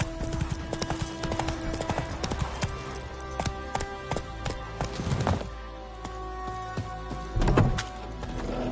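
Roach, the horse in The Witcher 3, gallops in a fast, even clip-clop of hooves close up, with rhythmic thuds and a brief swell of movement noise partway through.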